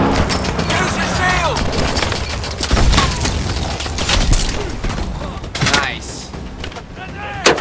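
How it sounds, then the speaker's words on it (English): Smart grenades detonate in Call of Duty: Advanced Warfare, a rapid series of sharp blasts and crackling gunfire layered with game voices and dense battle noise. "These are smart grenades, okay."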